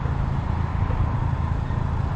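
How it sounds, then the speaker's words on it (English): A Porsche engine and exhaust idle steadily nearby, a low continuous rumble with a faint bubbling character, heard alone with no talking. "Another Porsche over here."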